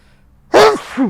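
A person sneezes once, loud and close in a quiet room, followed by a brief voiced exhale.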